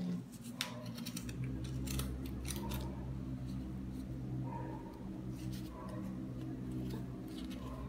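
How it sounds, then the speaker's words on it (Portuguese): Fine scissors snipping through wool yarn, a series of crisp repeated cuts in an uneven rhythm, close and fairly clear over a low room hum. "Aí vocês enfiam a tesoura aqui, ó, encaixa, ó. Aí vocês vão cortando,"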